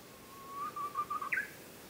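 A Japanese bush warbler sings on the forested Kumano Kodo pilgrimage trail in Wakayama, giving a long rising whistle followed by a quick, fluttering phrase. The song is fairly clear and moderately distant, with no voices.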